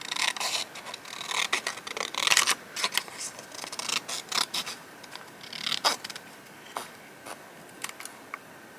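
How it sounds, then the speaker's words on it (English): Scissors fussy-cut a paper card in close, crisp snips and slicing scratches, coming in irregular bursts with short pauses between them. "Okay, let's just have now fussy cut this bit."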